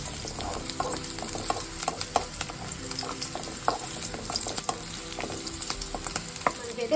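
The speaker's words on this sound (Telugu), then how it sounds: "ఇప్పుడు ఇవి బాగా గోల్డెన్ కలర్ వచ్చే వరకు ఫ్రై చేసి కరివేపాకు వేస్తున్నాను." Onions and green chillies fry steadily in hot oil for a tomato rice, a continuous close sizzle with scattered pops and crackles, plus occasional stirring clicks as curry leaves go in.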